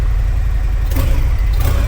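A Harley-Davidson Dyna motorcycle with stock exhaust idles with a steady, low, loud rumble close by, a small throttle blip partway through.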